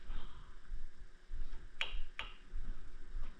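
Two sharp metallic flicks on the metal wing of a Transformers Megatron toy figure, a moment apart, crisp and close, over a quiet background hum.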